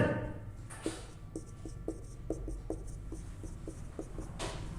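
Chalk or marker strokes on a board while a math problem is worked out, light tapping and scratching in an irregular rhythm over faint room hum, no speech.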